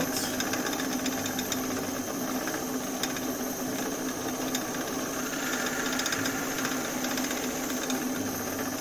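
Steady, continuous mechanical whir of a wood lathe spinning a workpiece while a tool chamfers the edge, a constant drone with a faint rattling texture and no talking.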